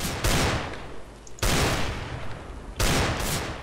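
Three heavy bursts of automatic gunfire in Counter-Strike: Global Offensive, each a loud, sustained rattle lasting about a second, separated by brief gaps.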